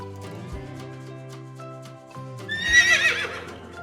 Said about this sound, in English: Neigh.